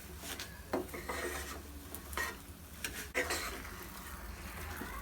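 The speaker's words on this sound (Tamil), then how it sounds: "நல்லா மிக்ஸ் பண்ணிக்கோங்க." Sugar being stirred into carrot kesari in a pan, a close, soft scraping and rubbing with a few sharper spoon-on-pan clinks.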